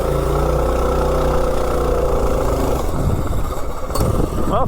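A mini bike's small engine idles with a steady low putter and a rough, slightly slow beat. It stays close and even, then turns more ragged near the end.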